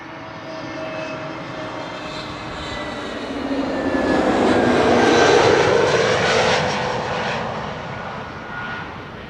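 A passenger airliner passes over Amsterdam Schiphol Airport, its engine roar swelling steadily to a loud peak midway and then fading away, with no talk over it.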